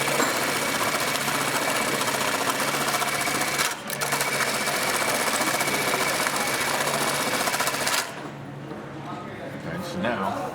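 A CM-1900HS-XL industrial sewing machine runs loudly and steadily near at hand, with a brief dip before resuming, then cuts off at about eight seconds, leaving quieter residual machine noise.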